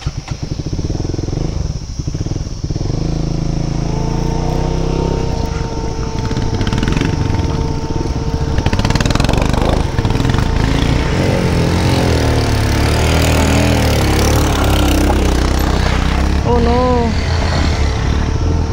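Motorcycle engines running on a mountain route from Pokhara toward Manang, a loud close drone with revving pitch changes throughout, while people talk over it.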